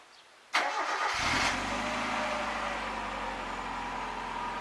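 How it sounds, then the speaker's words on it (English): A Mazda Miata engine cranks and catches after an oil change and Seafoam treatment, with a sharp burst of starter and revving, then settling into a steady, even idle close by. "This is the first start after the new oil change."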